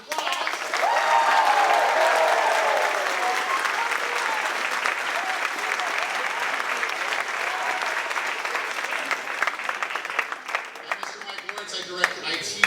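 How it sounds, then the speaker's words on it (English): Audience applause at the 2026 ABC Unified School District Honor Band performance, a sustained dense clapping from a large crowd that holds steady for several seconds before gradually thinning out. "Let's have a round of applause."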